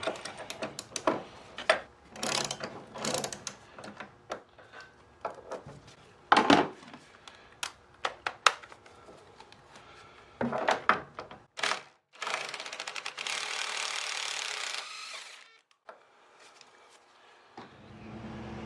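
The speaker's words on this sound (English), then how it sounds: "I have my spark plug socket and my Allen wrench. And now I'm just going to take this top nut off." Socket wrench on the top nut of an Audi TT Mk1 upper strut mount, with a spark plug socket and an Allen wrench: close, irregular metallic clicks and ratcheting taps in bursts, then a longer steady rasping stretch before a quiet tail.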